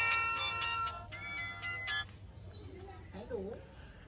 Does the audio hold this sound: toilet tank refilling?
no